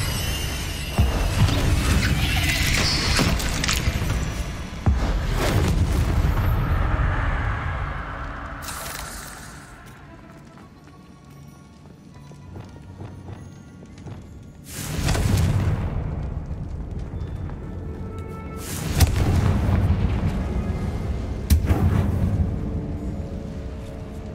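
Confringo spell blasts in Hogwarts Legacy: heavy booming explosions burst out several times, each with a rumbling tail, over a continuous din of game noise.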